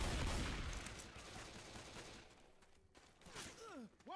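Gunfire in the zombie shooter game Left 4 Dead 2, a dense clattering burst that fades over a few seconds, with faint game voices and sounds near the end.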